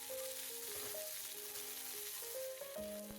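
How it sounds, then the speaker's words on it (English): Cubed potatoes sautéing in a tablespoon of oil in a pan, a steady close sizzle that runs without a break and is partly covered by tonal background music. "To a tablespoon of oil, first I sauteed a cube cut potatoes for 2 minutes."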